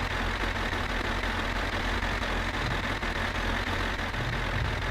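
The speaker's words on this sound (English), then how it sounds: "Alright, so we've got the engine going then." A flatbed tractor engine idles in the game My Summer Car, a dense steady low rumble that holds even and unbroken throughout, with no voices over it.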